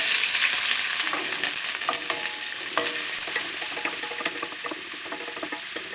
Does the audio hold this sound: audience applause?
no